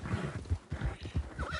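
Horse whinnying in the Red Dead Redemption 2 video game, a clear close neigh with rhythmic hoof clip-clop beneath it, ending in a rising whinny.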